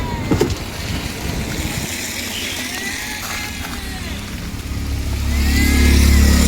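A Tata truck's Cummins engine starts up after a water pump change, then settles into a loud, close idle before revving up toward the end. Voices are faintly present.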